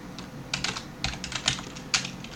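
Keys clatter on a computer keyboard in short uneven bursts of typing, close and fairly soft, with brief pauses between runs of keystrokes.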